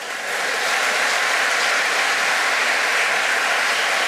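A concert audience claps in sustained, dense applause, steady and fairly loud from start to finish, with no voices standing out.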